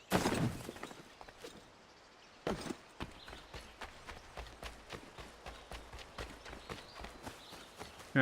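Horse hooves clip-clopping in the game Assassin's Creed 3, a steady run of close, even thuds after a short loud burst at the start, with no talking.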